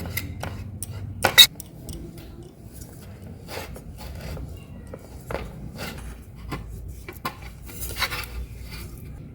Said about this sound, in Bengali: ঘিটা দিয়ে খুব ভালো করে আমি মাখিয়ে নেব এই পাত্রটার পাশ দিয়ে